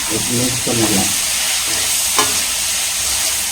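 Maggi noodles with masala being stirred in a frying pan, a continuous close sizzle with a few scraping stirs of the utensil.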